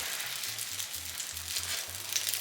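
Breakfast food is frying in a generous amount of oil in a pan. A steady, close sizzle crackles throughout, with a soft low music-like tone underneath and no talking.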